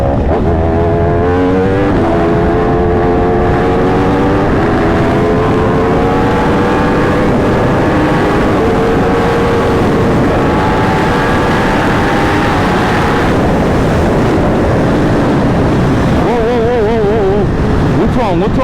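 Engine of a 2021 Yamaha R1 sport motorcycle failing, a loud continuous droning engine tone with wavering pitch sweeps and harsh roughness throughout, shifting near the end, with people talking over it.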